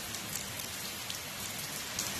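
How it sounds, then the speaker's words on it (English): Steady rain pattering on a surface, a dense hiss of drops with occasional louder taps, close and continuous. "looks like there is a little bit of rain."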